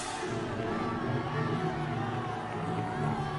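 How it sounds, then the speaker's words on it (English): A crowd cheers in the Harry Potter and the Chamber of Secrets PC game, a dense, steady roar of massed voices that holds at an even level throughout without individual words. "Crowd loves me, you hear it?"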